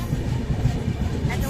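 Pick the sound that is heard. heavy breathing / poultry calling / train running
train running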